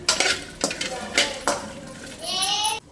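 Ingredients for bendekayi sambar being dry-fried and stirred in a pan, with repeated scraping strokes of a spoon against the metal and a ringing clink near the end, close and moderately loud.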